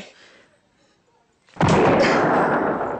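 A single sudden gunshot booms close by after a near-silent pause, its loud blast trailing into a sustained rumbling roar, with faint voices murmuring beforehand.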